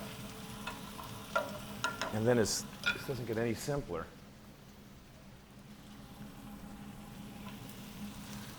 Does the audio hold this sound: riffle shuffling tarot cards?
no